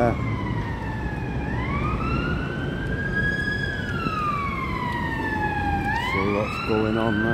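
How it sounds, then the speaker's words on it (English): Emergency vehicle sirens wail loudly over steady traffic noise on Manchester city streets, rising and falling in long sweeps, with a second faster siren pattern joining near the end. "Sirens coming up there."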